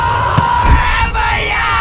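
A loud, close crowd yells and whoops as spectators rush onto a volleyball court, a dense roar of shouting voices with a few sharper thumps.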